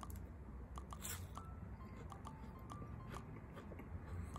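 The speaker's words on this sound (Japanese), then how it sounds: "サクサク、ふわふわサクサクでめちゃくちゃうまいですね" Crunchy fried horse mackerel (aji fry) being bitten and chewed close up, soft repeated crunching bites over a low steady background hum.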